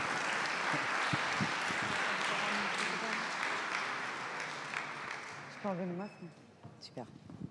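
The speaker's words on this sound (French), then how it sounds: "Vous rappelez le tonnerre d'applaudissements." An audience at a digital-inclusion launch event applauds loudly for about five seconds, the clapping fading out as a voice begins speaking over the tail.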